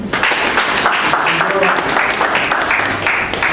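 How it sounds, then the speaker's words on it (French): Applause from the crowd at a formal charter-signing ceremony, a dense steady wash of many hands held for several seconds with no break, moderately loud. "On peut applaudir."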